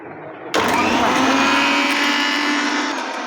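A kitchen mixer grinder switches on abruptly and runs with a loud, steady high-pitched whir for a few seconds.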